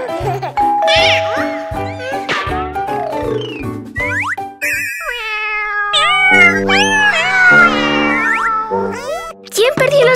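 Cartoon kittens meow in rising, bendy cries over bouncy music with boing-like effects, close and lively, with a voice chiming in between.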